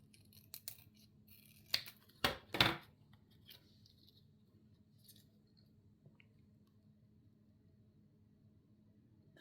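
Scissors cut through paper for a craft art display in a small 3 x 4 notebook, giving a few sharp snips near 2 to 3 seconds, then quiet with faint handling noise.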